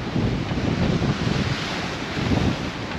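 Ocean waves slap against the hull of a sailing catamaran under sail, a continuous rushing wash with heavier surges, mixed with strong wind buffeting the microphone.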